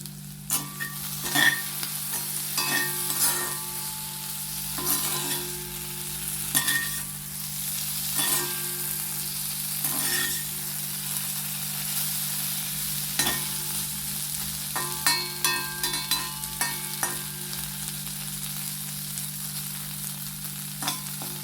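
Prawns fry with curry leaves in a hot pan, giving a steady close sizzle broken by frequent scraping stirs and small clicks of the spoon against the pan.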